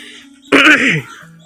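A single short, harsh cough or throat-clearing bursts out close by, then fades back into quiet background.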